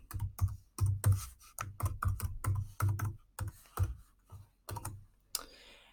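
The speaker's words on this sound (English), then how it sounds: "Now I'm going to go ahead and enter a password." Password being entered on a computer keyboard, a close run of sharp, irregular key clicks and taps with brief pauses, ending with a softer rustle.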